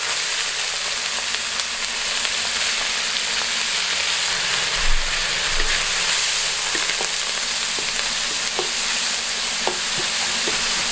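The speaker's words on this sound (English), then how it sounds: "Into that, going to add the onion and the garlic." Onion and garlic frying in margarine in a pan, a loud, steady close sizzle with faint occasional crackles and pops throughout, no talk.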